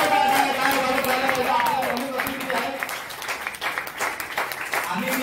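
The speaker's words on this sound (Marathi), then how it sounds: "तर जोरदार टाळ्यांमध्ये त्यांचं स्वागत करूया आणि त्यांना आमंत्रित करूया" Audience applause welcoming a chief guest at a foundation meeting in Panvel, moderate clapping mixed with crowd murmur and a voice speaking over it, fading slightly toward the end.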